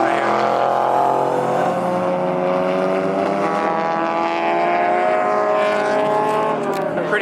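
A loud S2000 sports car with pink wheels runs close by, its engine a steady, powerful drone with a climbing pitch throughout, while voices are heard faintly alongside.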